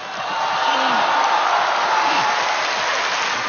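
A theater audience applauds at a Chinese crossstalk comedy show: steady, dense clapping and crowd noise that holds evenly for several seconds, with faint voices mixed in.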